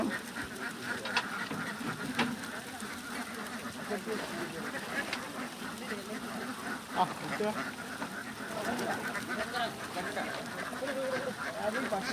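A large flock of farm ducks is unloaded from a vehicle into a paddy field, with continuous overlapping quacking close by. People talk over the birds throughout.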